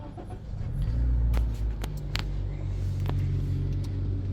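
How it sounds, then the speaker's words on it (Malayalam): A new Honda Amaze with keyless push-button start turns over and settles into a low, steady idle rumble, close by, with a few faint clicks and no talking. "ഈ അമേസ് സ്റ്റാർട്ട് ചെയ്യാം."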